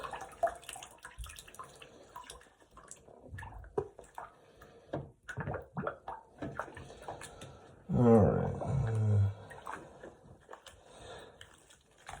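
Water gushes into a tub being filled to clean brass instruments, a loud steady rush near the end that follows quieter clatter and a person speaking.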